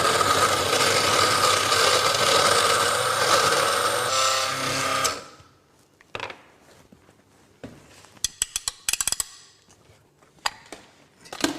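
A blender whizzes a pint of ice at full power, a loud, dense grinding roar lasting about five seconds before stopping abruptly, followed by scattered clinks and knocks from the jug.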